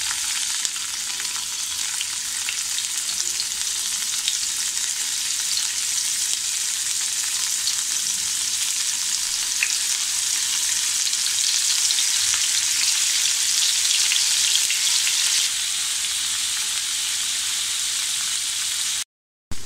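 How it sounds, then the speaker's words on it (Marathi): Pieces of paneer fry in hot oil over medium heat, a loud, steady close-up sizzle and crackle that runs unbroken for nearly the whole stretch before cutting off abruptly. "थोडे आपण हे पनीरचे तुकडे मध्यम गॅसवर आपण असे थोडे तळून घेऊया."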